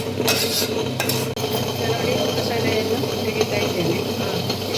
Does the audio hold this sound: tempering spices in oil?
yes